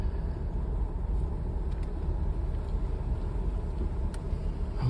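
A vehicle drives in over rough off-road ground, a steady close engine rumble with low bumping noise throughout and no speech.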